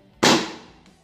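A single sharp crack from a KWA HK45 airsoft pistol firing, close and loud, with a quick decaying tail and a faint mechanical click just after.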